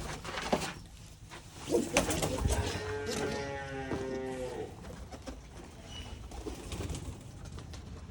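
Deep, throaty cooing from pigeons close by, a rolling run of coos in the middle with rustling and shuffling around it.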